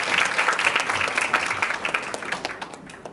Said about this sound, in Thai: ขอเสียงปรบมือกับคุณพ่อคุณแม่ด้วยกันครั